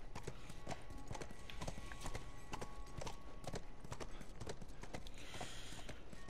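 Steady horse hooves clip-clop in a continuous rhythm, with a faint whinny and ambient background noise, in the video game The Last of Us Remastered.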